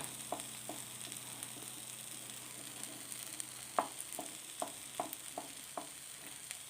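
Egg and ladies finger frying in a pan for thoran: a quiet, steady sizzle with a scattering of sharp utensil taps and scrapes as the mixture is stirred, close and without talk.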